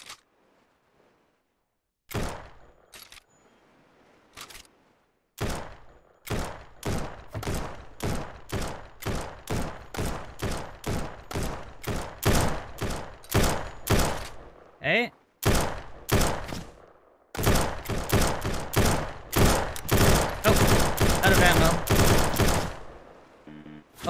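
Gunfire from a player in the survival game No One Survived, attacking a bandit camp: a long run of sharp, evenly paced shots, loud and close, that speeds into rapid bursts near the end, with brief pauses between volleys.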